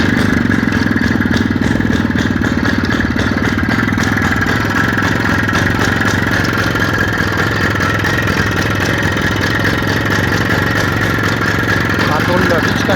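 Motorcycle engine running at a steady idle with a mechanical clatter, loud and continuous throughout, with someone talking over it.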